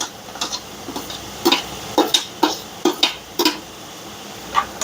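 Tomatoes stirred into onions frying in oil in a pan, a series of sharp spoon-on-pan clacks at an uneven rhythm over a soft steady sizzle, close and fairly loud.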